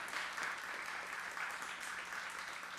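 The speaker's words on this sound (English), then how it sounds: "That was an applause line." An audience applauds at a spring closing session of LaGuardia Community College. The clapping is a steady, even wash from many hands across a large room and does not let up during the clip.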